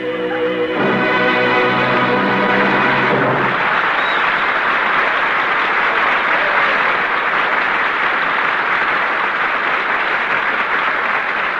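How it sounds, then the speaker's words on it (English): Audience applause at a radio theatre rises as a sung or spoken jingle fades out in the first few seconds, then swells into loud, continuous, dense clapping that carries steadily to the end. "Did you hear that applause, Jack?"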